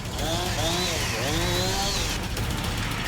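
A chainsaw revs nearby, its pitch rising and falling in several rapid surges as it cuts through fruit, then drops away near the end.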